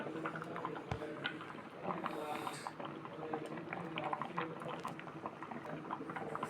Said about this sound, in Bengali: রাইস কুকারে ভাত বলক চলে আসছে, দেখেন